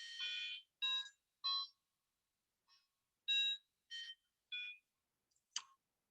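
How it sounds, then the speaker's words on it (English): A domestic alarm clock beeps in a room nearby, bursts of bright electronic tones in short irregular groups separated by silence, faint and somewhat distant, no voices. "there's my parents' alarm clock again"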